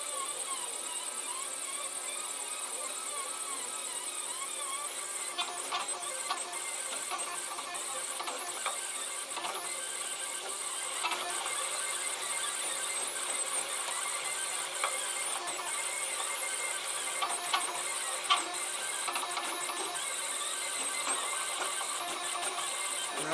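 A Protomaker 3D printer printing a raft gives off a steady high-pitched whine and hiss with faint clicks and stepper chatter, continuous and close throughout.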